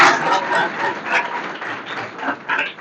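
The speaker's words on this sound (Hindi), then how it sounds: "आप लोग अच्छे से ताली बजा के सर का स्वागत कीजिए और पूरी टीम का" Audience applause welcoming a guest at an employment motivation camp, a steady broadband patter of hands lasting throughout, moderately loud with slight swells and no speech over it.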